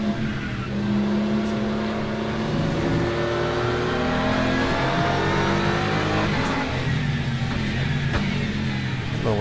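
Race car engine in the Le Mans Ultimate racing game, roaring loud and continuous with rising and falling revs as it drives through a wet race, tone shifting steadily without pause.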